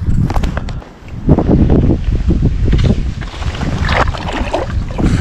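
Gusty wind buffets the microphone in a surge-and-drop rhythm beside an autumn highland lake in Tasmania during fly fishing, loud and close with brief lulls, no talking.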